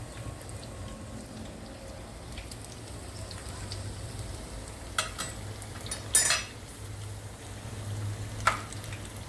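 Soft continuous sizzling and crackle of zucchini fritters frying in a pan, with a few brief clinks and scrapes of a utensil partway through.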